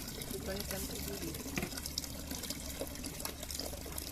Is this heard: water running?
yes